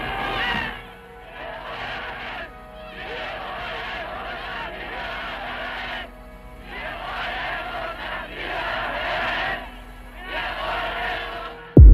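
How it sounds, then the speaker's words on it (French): Huge crowd cheering and acclaiming Hitler outside the Imperial Hotel in Vienna, a dense roar surging in long waves with brief dips, steady and loud throughout, ending in a sharp burst. "Hitler, acclamé, arrive en conquérant à l'hôtel impérial devant lequel une foule immense s'est massée"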